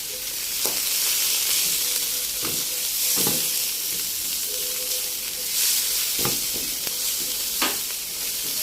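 Chicken liver and gizzards fry in a hot pan while being stirred, a loud steady sizzle broken by several sharp scrapes and knocks of the utensil against the pan.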